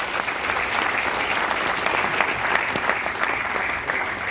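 Audience applause at a Hindi kavi sammelan poetry gathering in Vadodara, a steady, dense wash of clapping from a large crowd that holds at an even level throughout.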